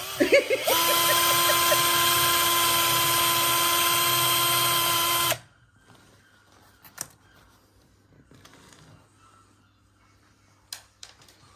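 A power drill whines steadily at high speed for about five seconds, then stops, leaving quiet room sounds and a few faint clicks.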